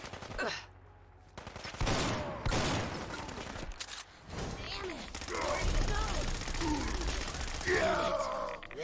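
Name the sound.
automatic assault rifle gunfire in Fallout 4 video game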